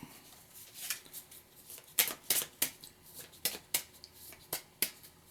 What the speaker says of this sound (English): So you shuffle these babies up.